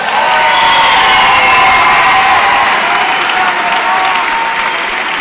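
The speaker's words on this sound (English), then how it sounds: "Give a round of applause." A large crowd at a high school graduation ceremony erupts in loud, continuous applause with cheering and whoops, a dense roar of clapping sustained without pause.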